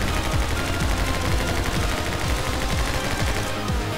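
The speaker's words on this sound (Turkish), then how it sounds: "Uzi ile dağıtırım yemin ediyorum" Rapid, continuous Uzi gunfire from the action video game My Friend Pedro, a loud, unbroken stream of automatic shots that fills the whole stretch without pause.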